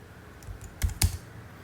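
Brief computer keyboard typing while entering code: a few soft keystrokes, then two sharper, louder clicks close together, with no talking.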